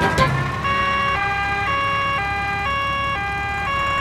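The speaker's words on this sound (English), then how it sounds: "The ambulance is here!" An ambulance siren from a Peppa Pig cartoon wails in a steady two-tone pattern, loud and continuous, alternating pitch about every half second with no talking.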